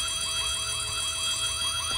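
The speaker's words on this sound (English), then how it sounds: "It's a safe with an alarm attached to it." Alarm on a safe in the horror video game White Day, a rapid, loud electronic warbling tone repeating in quick, even cycles and sounding alone throughout.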